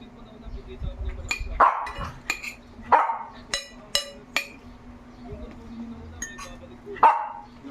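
A dog gives a few short barks and yips, spaced irregularly, with light clinks of dishes and a faint hum in a quiet room.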